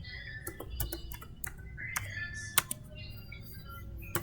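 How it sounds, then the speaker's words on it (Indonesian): A password being typed on a computer keyboard, a quick irregular run of sharp key clicks with short pauses, close and clear over a quiet background. "di sini teman-teman bisa ketikkan password"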